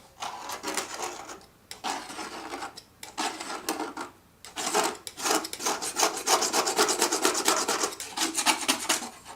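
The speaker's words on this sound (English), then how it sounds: "Trying to scrape off old film so that when I blend on the board it won't put little pieces of" Old dried paint film gets scraped off a painting board, a close, gritty rasping in repeated strokes that pause briefly and then settle into a faster, steady scraping rhythm.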